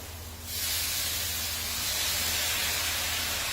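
A stir-fry of noodles hits the hot pan on the stove and erupts into a loud, steady hiss of sizzling that holds close and continuous after a sudden onset, with no talk.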